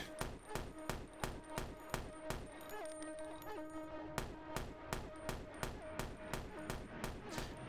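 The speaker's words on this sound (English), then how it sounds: "The other guy's gun is shooting." Another player's gun firing in the horror game Lake Haven: Chrysalis, a rapid run of sharp, evenly spaced shots with a short pause midway before the steady volley resumes, fairly faint.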